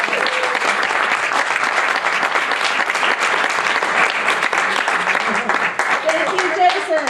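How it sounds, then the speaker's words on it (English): Party guests at a tenth anniversary celebration applaud steadily for about seven seconds, a loud, dense wash of clapping with voices mixed in and cheering under it. "Let's give Jason a round of applause"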